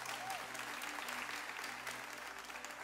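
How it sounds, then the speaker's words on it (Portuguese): Steady applause from an audience at a church service, dense continuous clapping held at an even level throughout, with faint background tones and no clear speech. "Vamos aplaudir ele mais uma vez"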